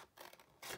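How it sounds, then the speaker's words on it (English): Scissors cutting through paper cardstock for a treat box, a soft close rasping snip with short bursts of crisp rustling, quiet and with no voices. "I'm going to cut away this square here"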